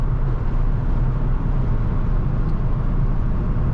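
A 1989 Ford Mustang picking up speed as cruise control resumes, a steady broadband road and engine drone heard from inside the cabin at constant loudness with no talk.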